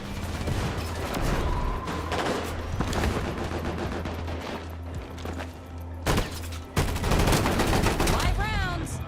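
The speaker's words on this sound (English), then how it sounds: "It's easy to get kills when everyone's shooting at the same target." Sustained gunfire in the video game Combat Champions, dense rapid shots and bursts running continuously over a low rumbling bed, with a few heavier blasts near the end and faint voices underneath.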